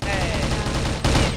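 Rapid automatic fire from an M16 rifle in the shooter game CrossFire: a loud, dense stream of shots that runs without a break and swells into a heavier burst near the end.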